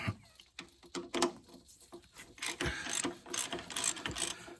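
A bolt on the hydraulic pump of a Case David Brown 995 tractor is worked loose with a ratchet and extension, giving repeated close metallic clicks and scraping turns in irregular bursts, fairly quiet with no talk.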